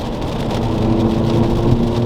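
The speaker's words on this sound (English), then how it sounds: "You put the foot down, and there's instant power there, and it takes a little bit of time just to get the turbo spooled up" Turbocharged F56 Mini Cooper S engine pulling hard under acceleration, a steady droning hum with rising tone, heard from inside the car with road noise.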